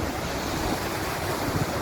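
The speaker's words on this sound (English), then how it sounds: "Look at these waves. Bad, big, rough sea." Rough, big sea waves surging onto the beach at Negril, Jamaica, a continuous broad roar of surf mixed with wind buffeting the microphone, steady and loud without distinct individual breaks, and no voices.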